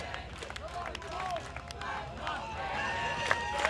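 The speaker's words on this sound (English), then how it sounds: "The crowd egging him on." Crowd at an indoor shot put competition in Columbia, South Carolina, cheering and clapping a thrower on his final attempt, a steady roar of voices and scattered claps under a commentator's talk.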